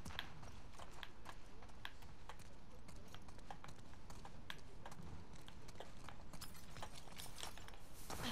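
Horse hooves clip-clopping in The Last of Us Part II, a steady run of sharp hoof strikes over a low ambient bed, moderately quiet and continuous.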